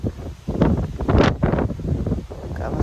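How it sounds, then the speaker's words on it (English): Gusts of wind buffet the microphone beside the Aire and Calder Canal at Goole, coming as rough, uneven rushing bursts that swell and fade in quick succession. "Gotta have a fight with wind."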